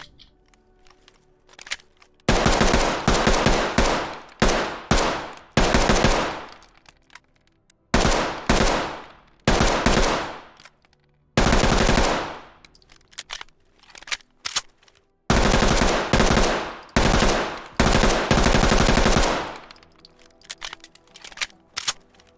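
Loud bursts of automatic fire from an MP5A3 submachine gun in the tactical shooter Ready or Not, several long and short strings of rapid shots separated by brief pauses, close and dominant with no voices.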